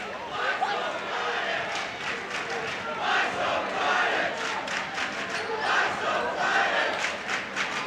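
Dense crowd of Panther fans shouting and yelling in a high school basketball gym, a loud, continuous roar of many voices filling the room.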